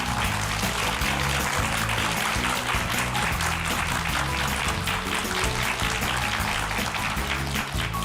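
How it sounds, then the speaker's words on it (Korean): A studio audience on a Korean lecture program claps loudly and continuously. The applause is dense and close, with no speech over it. "한번 큰 박수 부탁드립니다"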